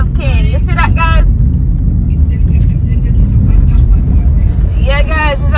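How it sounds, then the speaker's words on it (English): A heavy sugarcane truck loaded with cane drones loud and low throughout while a person talks briefly at the start and again near the end. "This is a cane truck. This truck is full of cane."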